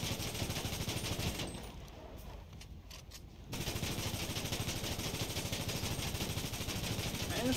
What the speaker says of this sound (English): Man, this thing can actually take some gunfire.